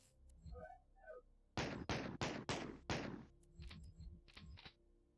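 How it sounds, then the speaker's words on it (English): Pitch-varied video game gunshot effects from a custom map fire in a quick run of five loud, sharp blasts, preceded by faint electronic tones and followed by softer scattered shots. "I even went through and changed the pitch on these so it didn't sound like the same gunshot each time"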